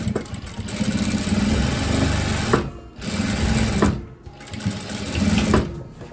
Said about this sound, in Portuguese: vou passar a costura aqui